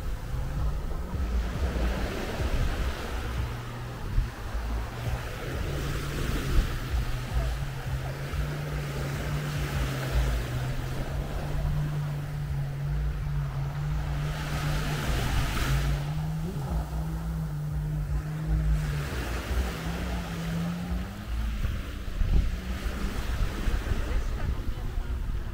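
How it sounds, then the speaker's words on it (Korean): Surf washes steadily onto Lamai Beach on Koh Samui, a continuous wind-blown roar with a low engine hum running beneath it, likely a passing boat offshore. "자, 여기는 라마이 비치입니다."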